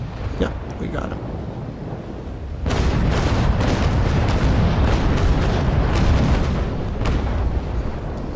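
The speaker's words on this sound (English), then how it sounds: "Nice broadside" Massed cannon broadside from a sailing warship, the USS Constitution, in the naval combat game Naval Action, rolling into a sustained loud rumbling roar with sharp overlapping booms after a quieter windy lead-in.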